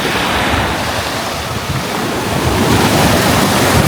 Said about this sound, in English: This is my first time seeing the Atlantic Ocean.